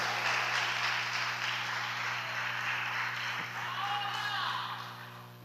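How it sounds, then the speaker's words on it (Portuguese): A church congregation claps in a fairly steady wash of applause over a low background hum, with a few sharper claps standing out before the sound fades slightly at the end. "Vocês podem aplaudir a palavra do Senhor?"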